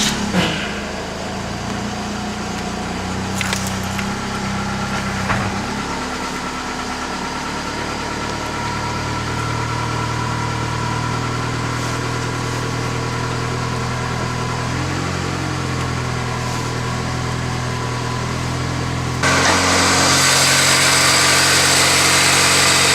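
A car's 1.8 liter four-cylinder engine on a cold start, running at a steady fast idle close by for over twenty seconds, its tone shifting slightly and getting louder and brighter toward the end.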